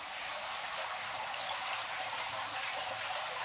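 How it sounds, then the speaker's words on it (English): A steady trickling hiss of water runs through a siphon hose while dirt is drawn from the bottom of a catfish fry tank, close and continuous with no talking. "The water is coming gradually."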